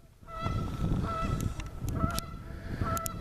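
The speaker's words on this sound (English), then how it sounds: "And got some geese." Geese at a bird sanctuary honk repeatedly in short, loud calls over steady background noise, with several nearby birds calling in overlapping bursts.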